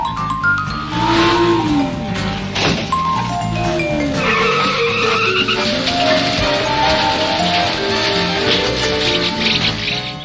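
Animated car chase from the Lupin III film The Castle of Cagliostro, with loud squealing tires skidding and sliding in repeated swooping pitches over roaring engines and a music score, close and intense throughout.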